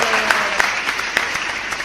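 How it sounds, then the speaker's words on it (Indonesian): An audience at a finance and investment education talk claps, a steady wash of applause with a few sharper individual claps standing out near the front. "Oke, tepuk tangan dulu."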